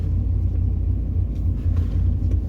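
Steady low rumble of a car engine during a run, droning close and constant with no talk.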